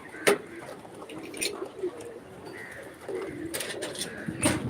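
Pigeons cooing in a coop give soft, low, intermittent murmurs beneath someone talking nearby, with occasional faint rustling and clicks in the background.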